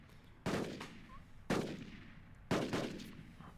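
Pistol shots from Royal Mameluke cavalry in the strategy game Rise of Nations: three sharp, booming reports spaced about a second apart, each with a short ringing decay, loud and clear with no talking.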